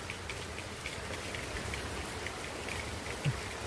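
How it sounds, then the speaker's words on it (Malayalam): Steady rain patters on surfaces all around, an even hiss with scattered drops and one soft thud near the end. "എന്നാ ഭയങ്കര മഴ"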